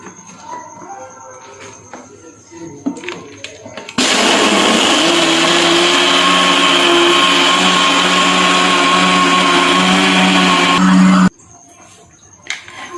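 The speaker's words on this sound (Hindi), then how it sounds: "पहले हम इसको ग्राइंडर कर लेंगे।" An electric grinder blends chilled peach chunks with six tablespoons of sugar for juice. It roars loud and steady for about seven seconds, then cuts off abruptly, with quieter kitchen noises before and after.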